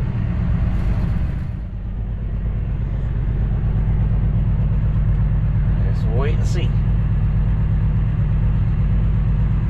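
A semi truck engine left idling in cold weather rumbles low and steady throughout, with a voice speaking briefly over it near the start.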